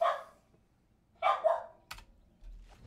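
A house dog barks at someone at the door, giving a sharp bark, then a quick double bark, then fainter trailing sounds, fairly close and otherwise quiet.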